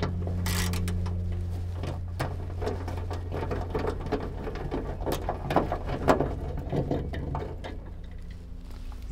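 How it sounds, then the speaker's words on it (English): Bolts being removed from the trunk lid of a Honda Civic: a continuous whirring power-tool mechanism with rattling and clicking over a steady low hum, fairly close and moderately loud throughout. "we're just going to go ahead and take these bolts out."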